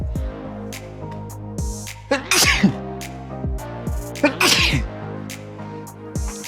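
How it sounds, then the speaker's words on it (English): A person sneezes twice, close and loud, each sneeze a sharp explosive burst, with quieter breathing and shuffling noises between them. "Excuse me, I got to sneeze"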